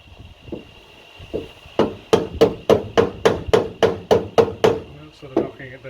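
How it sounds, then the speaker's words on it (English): A ball peen hammer knocks down the metal floor panel of a Mk2 Ford Escort, about a dozen sharp, ringing, evenly spaced blows close up, after a few softer taps and brief talk. "So I'm using a ball peen hammer here purely because of the shape of these things and the angle."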